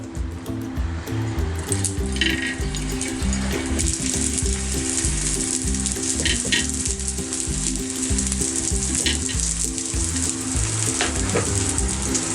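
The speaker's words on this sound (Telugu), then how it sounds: "మిగతాయి కూడా ఇలానే ఫ్రై చేసేసుకుందాము. కొంచెం ఆయిల్ వేసానండి." Aloo tikki shallow-frying in oil, a loud, close, continuous sizzle with occasional light clinks of a utensil, steady throughout with a low rhythmic hum beneath, no speech.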